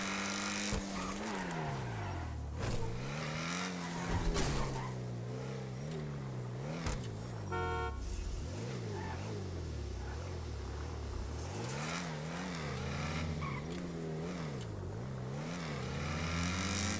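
A car in a city roleplay video game revs repeatedly, its engine pitch sweeping up and down in waves as the tires squeal and skid. Steady and fairly loud throughout, with no speech.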